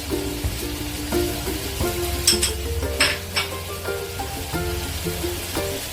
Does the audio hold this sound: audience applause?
no